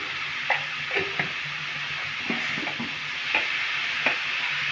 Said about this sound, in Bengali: নুন দিয়ে ভালো করে নেড়ে নেব